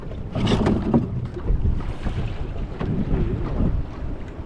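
A small boat engine or outboard motor runs steadily on the water, a continuous low mechanical drone mixed with wind buffeting the microphone and water noise, with no talk.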